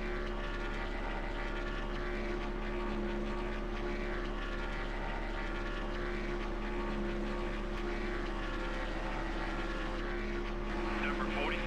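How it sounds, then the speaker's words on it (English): Race car engine in the NASCAR Thunder 2003 video game, a continuous steady droning hum with a fixed tonal pitch that holds evenly for the whole stretch, moderately loud with no pauses. "now I can hear the engine a lot louder"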